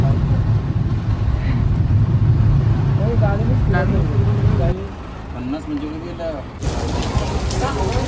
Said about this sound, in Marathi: पावसाचा झपाटा आलेला आहे डायरेक्ट